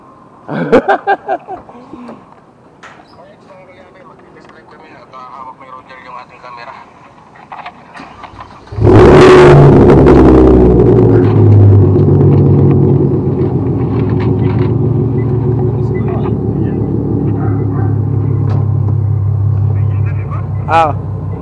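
Vehicle engine starts up partway through a test run and keeps running loudly with a steady low rumble and slight revving, after earlier background talk; voices continue over the idling engine.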